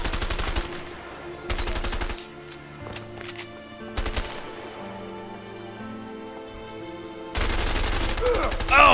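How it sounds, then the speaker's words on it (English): Gunfire in the video game A Way Out: dense bursts of rapid shots in short blocks at the start, midway and the end, separated by quieter stretches of low tonal music and ambience. "I can still hear you shooting."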